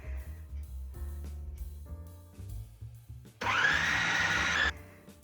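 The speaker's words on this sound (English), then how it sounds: "I will grind this in the food processor because the onions are not finely grated." A food processor grinding onions runs in a loud, continuous whirring burst for about a second, preceded by quieter clattering and a low hum, with no voices.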